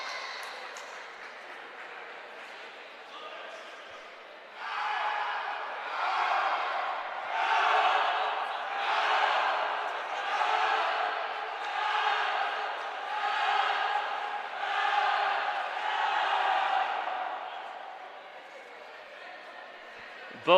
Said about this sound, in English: Both teams cheering on Rodriguez in this heat number 1.